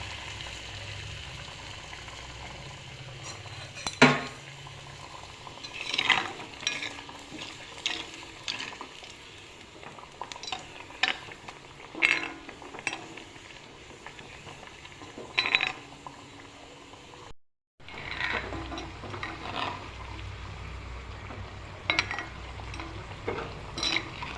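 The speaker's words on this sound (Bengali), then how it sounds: "এখন এগুলো একে একে তেলে ভেজে নেব।" Kachori frying in hot oil: a steady, close sizzle with scattered sharp crackles and clicks from stirring, broken by one brief silent cut near the end.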